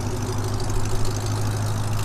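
A 1978 Studebaker Avanti II coupe idles with a new exhaust, giving a steady, deep, rumbling drone at close range with no talking.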